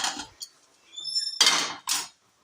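A spoon clinks and scrapes against a metal pressure cooker while a homemade cake is checked: a few sharp, close metallic taps and a ringing scrape, then quiet.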